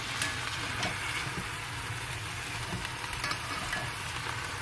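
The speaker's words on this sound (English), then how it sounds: "As you can see, you sear it." Meat sears in a hot pan with a dense, steady sizzle and crackle, close and continuous over the whole stretch, without talking.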